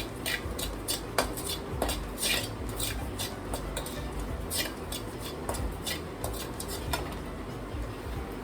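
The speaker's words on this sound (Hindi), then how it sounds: "डेसिकेटेड कोकोनट या हाथ से किया हुआ कोकोनट हल्का सा, इन्हें भून लेंगे हल्का हल्का" Desiccated coconut being lightly roasted in a pan, with a metal utensil scraping and clinking against the pan in frequent irregular taps over a steady low sizzle-like hiss, close and moderately loud, no talking.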